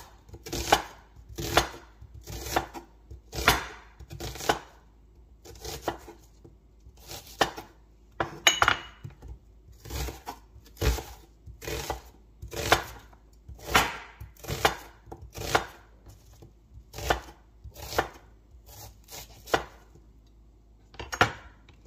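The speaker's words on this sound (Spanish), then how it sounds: "La cebolla la voy a cortar a la mitad. Y luego también así en medias lunas." A knife chops through an onion on a cutting board, cutting it into half-moon slices for chicken fajitas. It makes crisp, close, evenly spaced thunks in a steady rhythm of around twenty strokes, with no talking.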